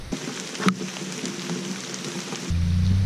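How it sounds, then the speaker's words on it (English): Heavy rain pours down outdoors in a steady wash of noise, with a sharp knock near the start and a deeper, louder rumble joining for the last half second; no one speaks. "Man, the rain's really coming down, so I'm getting soaked out here."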